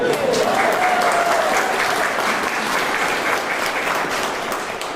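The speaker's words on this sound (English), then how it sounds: "let's clap for them" Sustained applause from an audience during First Lady Jill Biden's holiday remarks at the White House, a loud, dense roar of clapping that holds evenly and eases slightly near the end.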